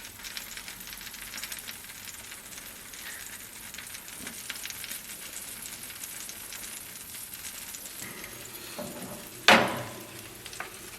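Iberian pork chops in a pan on low heat give a soft, steady sizzle and crackle close by, with a brief louder clatter near the end.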